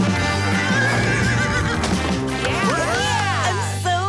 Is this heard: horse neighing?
yes